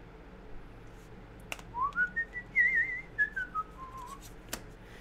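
A person whistles a short rising-and-falling melody of several clear sustained notes over a faint room hum, with a couple of sharp clicks nearby and no talking.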